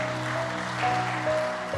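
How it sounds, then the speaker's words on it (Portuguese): A church congregation applauds during an evening service, a steady wash of clapping lasting under two seconds with a faint low hum beneath it. "Você pode aplaudir aí o nome do Senhor Jesus Cristo?"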